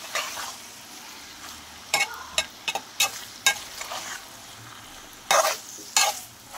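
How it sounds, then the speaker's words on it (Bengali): Mutton sautés in a pan with a low, steady sizzle, while a spatula scrapes and knocks against the metal in sharp, irregular bursts close to the microphone. "মাংসটা ভালো করে কষিয়ে নেব।"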